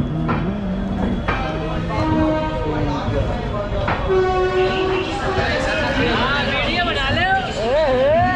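Antyodaya Express train number 12597 pulling into Kanpur Central station: a continuous rumble of rail cars, with drawn-out tonal horn or whistle sounds rising and bending, over a busy hubbub of many voices on the platform.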